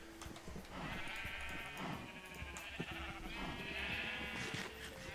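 Sheep in Minecraft give repeated wavering bleats, faint and overlapping, over a low background.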